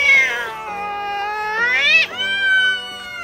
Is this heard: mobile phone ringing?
no